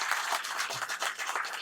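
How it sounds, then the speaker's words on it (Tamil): Audience clapping at a 61st birthday award ceremony honoring artists, a brief round of many hands applauding together at a steady, moderately loud level. "ஆகவே கொஞ்சம் எழுந்திரிச்சு உட்காந்து ஐயாவை வாழ்த்துவதற்கு ஒரு முறை கைதட்டுக்க வேணுமா"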